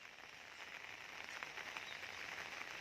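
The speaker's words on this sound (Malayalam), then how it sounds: "നല്ല മഴയല്ലേ?" Rain falling on a wet morning, a soft continuous hiss with faint patter, fairly quiet and distant, no talking.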